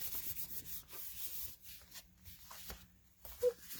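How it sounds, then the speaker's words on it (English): Cardstock for a stamped greeting card being burnished with a rubbing tool, giving soft, faint scraping strokes in a quiet room, with one slightly louder scrape near the end. "Give it a nice burnish."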